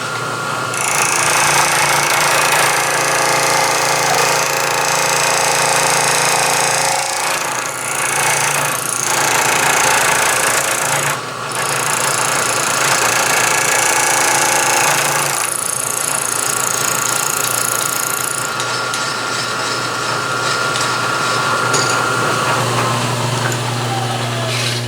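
A continuous, loud, high-pitched grinding whine of a milling machine cutting metal stock, with shifts in pitch and intensity and brief dips as the cut changes.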